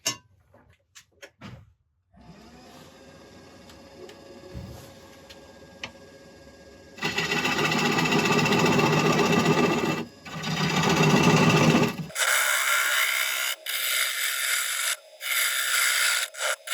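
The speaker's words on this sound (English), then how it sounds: "So I'm going to start off by hollowing a bit of this" Wood lathe hollowing the inside of a winged bowl: a faint spinning whir at first, then loud, steady rasping as the tool cuts, with short pauses and a harsher scraping in the final stretch.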